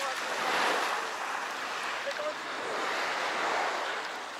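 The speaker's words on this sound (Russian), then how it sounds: "Видимо, корабль прошел, волны поднялись." Sea surf washing ashore at a beach in Kemer, Turkey, the waves stirred up by a passing ship, a steady broadband rush with gentle swells of loudness, mixed with wind buffeting the microphone.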